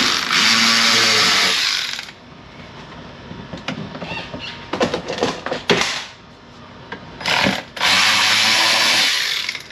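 Power driver zipping bolts out of an MK5 GTI interior, two long loud whirring runs at the start and end with clattering handling and short bursts between them, close up.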